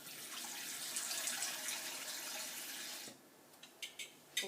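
Water gushes steadily into a mug for pancake batter for about three seconds, then stops, followed by a few faint drips and small clinks, close and fairly quiet.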